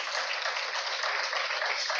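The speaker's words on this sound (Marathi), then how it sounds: "जरा एकदा त्या सगळ्या परिवारांसाठी आपण जोरदार टाळ्या वाजूया." Steady applause from an audience at a Marathi book launch event, a dense even wash of clapping throughout with no individual claps standing out, moderately quiet and continuous.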